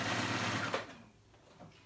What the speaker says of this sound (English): go in with a zigzag stitch and just sew it into that seam